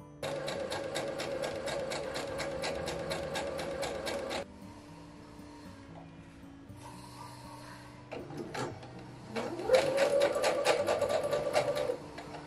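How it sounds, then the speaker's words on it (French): Domestic sewing machine stitching fabric pieces together: a fast, rhythmic mechanical whirr in two bursts separated by a quieter pause with faint handling noise, close and clear. "l'idée maintenant c'est d'aller à la machine et d'assembler comme ça"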